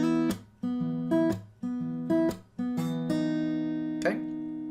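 Acoustic guitar picks out a phrase of a song in clear plucked notes and short ringing arpeggios, several rising figures with open strings left to sustain, played close and alone.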